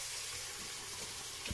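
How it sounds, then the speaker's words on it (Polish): Hot tap water pours steadily from a faucet into a large bowl holding a ceramic dish, a continuous close splashing hiss. "do której nalewam gorącej wody z kranu"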